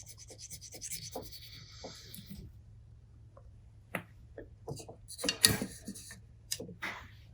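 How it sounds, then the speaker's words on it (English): A burnishing tool rubs a decal down onto a fishing rod as the rod turns slowly, making faint, soft back-and-forth rubbing and light scratches over a low steady hum, with occasional small ticks. "I'm just rubbing the decal down, turning the rod slowly as I burnish it back and forth."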